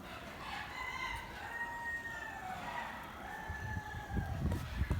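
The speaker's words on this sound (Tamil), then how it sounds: "இந்த கோழி பார்த்தீங்கன்னா நம்ம சவுண்டு கொடுத்தோன்னா அதுவும் நல்லா கத்தும்" A rooster crows a few times at a distance on a farmhouse in Barka, Oman, its drawn-out calls rising over a low background rustle and some nearer scuffling.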